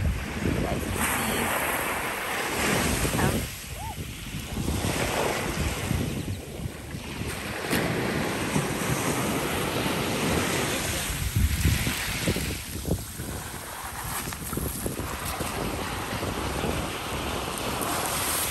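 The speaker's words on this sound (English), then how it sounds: "These waves coming in." Ocean waves roll in at Turner Beach on Captiva Island, a steady broadband wash with gentle surges, mixed with gusty wind buffeting the microphone throughout.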